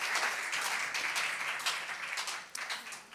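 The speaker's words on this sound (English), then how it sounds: "Give your wonderful hand of clap of offering to Jesus." Church congregation clapping hands as an offering of praise during a sermon, a steady dense patter of many hands filling the room, moderately loud and continuous with no talk over it.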